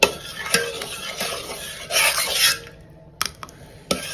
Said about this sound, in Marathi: आता आपण कुकर उघडूया.